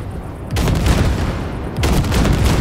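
Basilisk vehicle weapons in Cyberpunk 2077 pound wrecks in two loud sustained bursts of rapid gunfire, a short lull between them.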